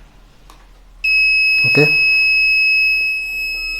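A buzzer on an ESP32 board triggered by an RFID card gives a sudden, continuous high-pitched electronic tone that starts sharply and holds steady, while a voice briefly speaks over it.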